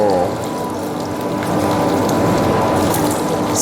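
A meat grinder working through pork belly gives a steady, close mechanical grinding and churning drone that runs unbroken from start to finish.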